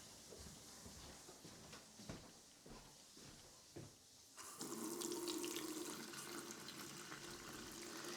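A bathroom faucet is opened to flush air and sediment from a newly connected public water line, giving a few knocks and then a steady, loud rush of running water.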